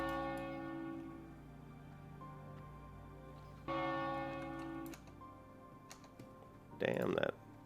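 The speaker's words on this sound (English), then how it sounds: "Damn, that frickin' bell is loud." A loud bell rings inside the game World of Warcraft, its tones sustained over a steady drone, with a brighter burst of sound near the end.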